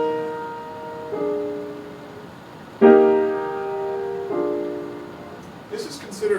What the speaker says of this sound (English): This is a perfect 5th moving into a diminished 5th.